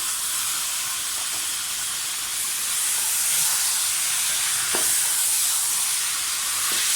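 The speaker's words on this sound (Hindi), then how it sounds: "मटन के साथ ही टमाटर डाल दें।" Mutton and tomatoes fry in a pot with a loud, continuous hissing sizzle, steady and close for the whole stretch, with a couple of faint clicks underneath.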